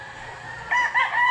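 Young roosters (stags) with trimmed combs give a short, loud crow that starts partway through and breaks into a couple of rising bursts over a low farmyard background.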